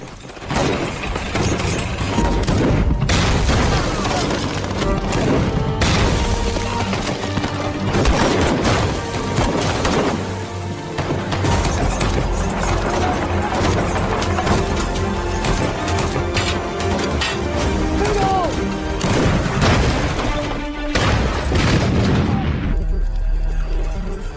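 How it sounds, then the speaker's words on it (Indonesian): A war film battle scene with tank bombardment: continuous heavy booms, explosions and crackling gunfire, loud and dense throughout, with occasional speech mixed in. "Jepang mengerahkan dua tanknya dan terus membombardir pertahanan pasukan Lee"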